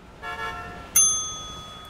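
A bright bicycle bell or horn on a Coil Inductor bike in GTA Online rings out in two quick tones, the second sharper and ringing down slowly, close and alone with no talking.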